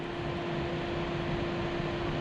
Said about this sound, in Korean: 전원을 넣으면 여기 모터 팬이 돕니다